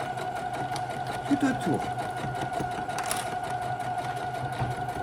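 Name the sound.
sewing machine stitching a shoulder bag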